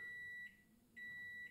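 Two short electronic beeps from a microwave, each about half a second long and separated by a brief pause, faint and steady in tone.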